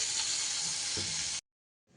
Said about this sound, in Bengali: বেগুনটাকেও হালকা হাতে একটু ভাজা করে নেব, নাড়াচাড়া করে।